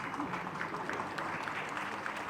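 Dense, steady applause from an audience at the audio launch of the Malayalam film Pavi Caretaker, with many hands clapping together at a constant, moderately loud level throughout.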